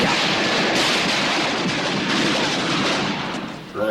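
Dense cartoon machine gun fire rattles in a loud, continuous barrage of rapid shots with no break, close and harsh, easing slightly just before the end.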